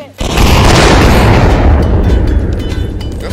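A rocket launcher detonates in the VR shooter Onward, a huge close boom that bursts in and rolls on as a dense, sustained rumble for several seconds.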